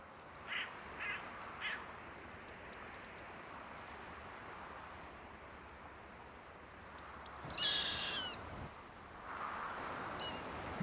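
Jackdaws nesting near a treetop eagle give two bursts of rapid, harsh chattering calls, each a quick run of clipped notes, fairly close and clear against a quiet outdoor background.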